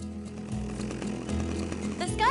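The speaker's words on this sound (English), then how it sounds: "But the ambulance hits this gentleman with a chainsaw, Juan, and..." Chainsaw in the video game Bad Day L.A., a steady buzzing engine drone running throughout at moderate loudness, ending in a rising whine as other game sounds cut in.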